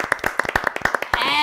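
A quick run of sharp, rhythmic hand claps, close and fairly loud, ending in a brighter sustained tone.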